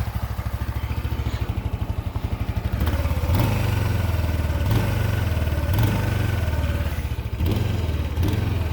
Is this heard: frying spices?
no